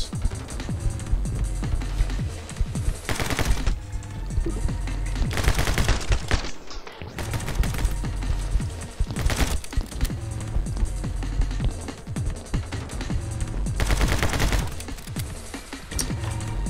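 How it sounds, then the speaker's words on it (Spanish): Video game gunfire from My Friend Pedro crackles in rapid, dense bursts with machine-gun-like volleys and loud single shots, continuous and close, mixed with game sound effects. "le he pegado varios tiros ahí en la cabeza y no ha muerto"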